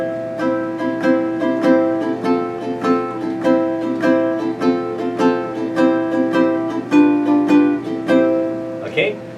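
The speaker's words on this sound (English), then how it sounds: "So on the ukulele, the strumming part would sound like this." Ukulele strummed in steady chords as a rhythm part, with a regular down-and-up pattern of bright, ringing strokes played close and clear, with no voice.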